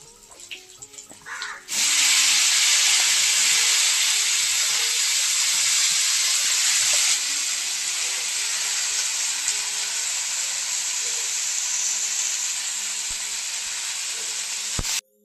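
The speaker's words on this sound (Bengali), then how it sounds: "ভাজা তেলেই আমি বকুলিটা ভেজে নিচ্ছি।" Broccoli dropped into hot oil in a pan bursts into a loud, sustained sizzle that starts abruptly and holds steady, easing slightly partway through before cutting off at the end.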